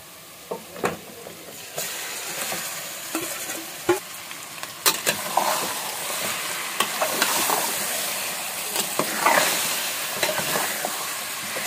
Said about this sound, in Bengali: লাল হয়ে গেছে এখন মা মেখে রাখা মাংসটা দিয়ে দেবে